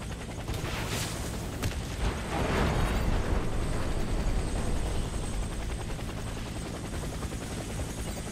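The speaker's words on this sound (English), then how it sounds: "Get to the helicopter for extraction." An extraction helicopter in the Warface shooter game thrums steadily with a loud rotor wash throughout, swelling briefly in the middle as if passing close, with faint distant rumbles beneath.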